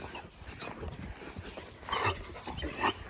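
A dog makes a few short, soft yelps and whimpers close by, with light background noise in between.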